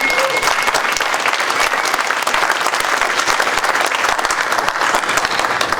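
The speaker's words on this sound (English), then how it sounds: "So we owe her a huge applause right now for what she's done." Steady, dense applause from an audience at a public gathering on cannabis and hemp agriculture, loud and sustained throughout with no pause.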